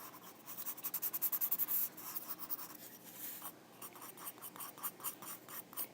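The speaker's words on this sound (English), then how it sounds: "So I'm just going to darken up the edges using the red colored pencil by Crayola." A red Crayola colored pencil scratches across paper in quick rhythmic back-and-forth strokes, close and soft, with a burst of fast even strokes followed by looser, uneven shading.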